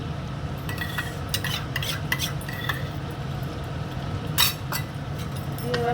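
A spoon stirring and scraping a spicy dish in a metal pan, with repeated clinks and scrapes over a low background hum, close and moderately loud.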